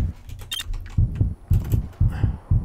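Low-health heartbeat effect from the video game Just Cause, a repeating pair of deep thumps pulsing steadily in the foreground over faint game noise.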